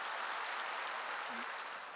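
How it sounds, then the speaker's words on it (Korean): A church congregation applauding during a sermon: a steady, fairly faint wash of many hands clapping, continuous throughout with no distinct individual claps. "믿는 사람만 박수세요."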